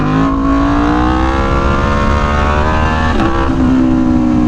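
An Aprilia Tuono V4 1100 Factory motorcycle accelerating hard for a wheelie, its V4 engine howling loud and close with a steadily rising pitch and a brief dip as the throttle shifts partway through.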